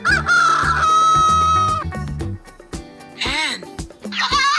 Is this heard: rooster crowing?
yes